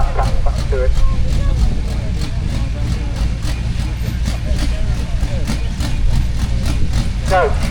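A pulling tractor's engine runs at a tractor-pulling event in Laughton, a steady low rumble heard at a distance beneath continuous commentary over a loudspeaker.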